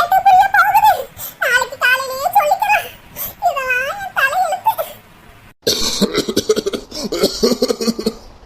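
A Tamil cartoon character, a drunkard husband, coughs in harsh, repeated bursts. Voiced, rasping sounds come in several clusters, then a denser hacking stretch follows after a brief pause. A voice imitates the cough.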